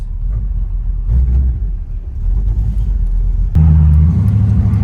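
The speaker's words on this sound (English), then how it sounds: "Let's see how she warm starts. Ooh, dang. She's sounding good." A G-body car's engine just after a warm start, a loud close low idle rumble that deepens and steps up in pitch partway through as it settles into a steady throaty idle.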